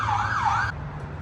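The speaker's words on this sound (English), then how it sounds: "you faintly hear a siren in the distance" An emergency vehicle siren wails faintly from a distance, a rising and falling tone that cuts off after under a second, leaving low background hum.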